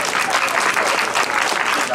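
Dense audience applause at an outdoor jazz saxophone concert at Anping Fisherman's Wharf, a steady wash of many hands clapping close by, with some voices mixed in.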